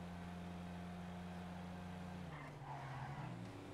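A car in a video game brakes hard and skids, its steady engine drone dropping in pitch as the tires scrub across the surface, loud and continuous throughout.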